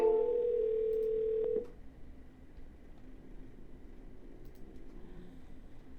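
A telephone dial tone on an outgoing real estate cold call, a steady clear tone for about a second and a half that cuts off with a click, followed by faint line hiss and low background noise.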